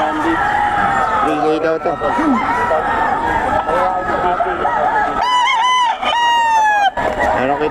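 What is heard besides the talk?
roosters crowing at a market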